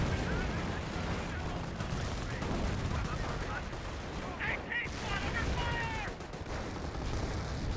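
Dense gunfire and explosions rumble continuously through a Company of Heroes battle as an aircraft makes a strafing run, with someone speaking briefly over the noise.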